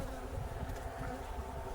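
A big swarm of honeybees being caught and installed, buzzing close up as a dense, steady drone that holds without a break.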